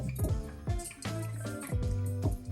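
Boiling water is poured over ground poppy seeds in a bowl and stirred, making close wet sloshing and splashing sounds in repeated pulses as the mixture is worked.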